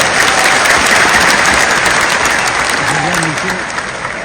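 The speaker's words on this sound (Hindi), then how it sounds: "जोर से ताली बजाएं।" Dense, steady applause from a large crowd at a political rally, loud and continuous throughout, with a few faint voices rising near the end.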